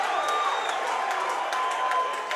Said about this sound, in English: Crowd on its feet here.